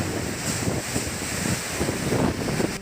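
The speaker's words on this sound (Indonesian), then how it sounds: "Hujan deras dan angin kencang menerjang kawasan Sidoarjo Utara, Jawa Timur." Heavy rain and strong wind battering an outdoor culinary centre in Sidoarjo, East Java, a loud, steady wash of wind and rain noise buffeting the microphone with no speech.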